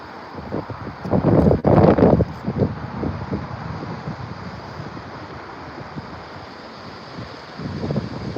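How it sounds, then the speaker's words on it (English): Strong wind buffets the microphone in heavy, rumbling gusts, loudest in an early burst and again near the end, with a steady roar between. "It's so windy."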